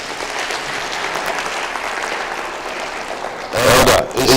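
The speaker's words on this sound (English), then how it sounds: "Can we give them a clap?" Steady audience clapping at a church year-end council meeting, a sustained even patter that swells louder near the end, with voices faintly audible beneath.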